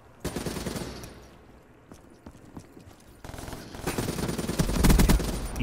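Rapid automatic gunfire in Call of Duty Black Ops III, clattering in dense bursts that fade for a moment and then build again louder and closer near the end.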